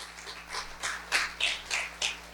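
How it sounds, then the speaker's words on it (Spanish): A church congregation claps for the Lord, a run of loud, roughly even hand claps with a slight echo of a large room, about eight beats in a little over two seconds. "Si tú vas a aplaudirle al Señor, que sea fuerte."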